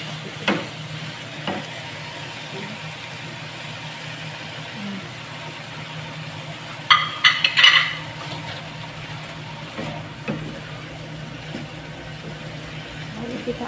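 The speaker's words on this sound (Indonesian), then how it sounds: "Kita aduk-aduk ya" Squid with garlic chive flowers being stirred in a pan: a steady low sizzle runs throughout, with a brief cluster of scraping, clattering strokes near the middle and a few soft knocks scattered around it.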